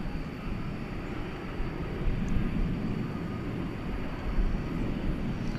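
Air Canada passenger jet from Toronto on a late-night flight at DFW Airport, a steady low rumbling engine drone at a distance with slight swells in loudness.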